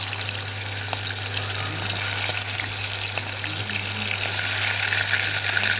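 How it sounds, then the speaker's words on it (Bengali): Marinated chicken pieces fry in hot oil in a wok for chicken darbari, giving a steady, close crackling sizzle that holds even from start to finish with no talking. "এবারে এই কড়াইতেই তেলটা গরম হয়ে গেছে, এবারে এর মধ্যে আমি এই ম্যারিনেট করা চিকেনগুলোকে দিয়ে দেবো।"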